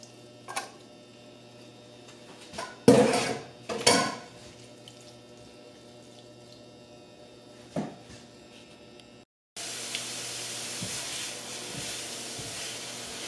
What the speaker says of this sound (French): on les fait sécher comme ça dans la poêle